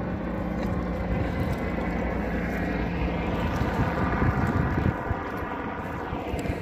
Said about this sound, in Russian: О, снова вертолет.